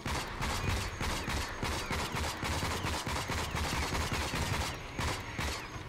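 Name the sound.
gunfire in the video game Rage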